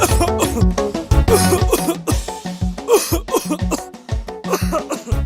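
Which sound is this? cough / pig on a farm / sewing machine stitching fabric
cough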